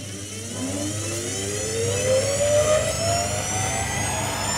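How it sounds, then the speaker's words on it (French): A film projector's motor-driven rewinder runs steadily with a mechanical whir and rising tones as the reel speeds up, a continuous close hum rewinding film. "Et on met le moteur en route."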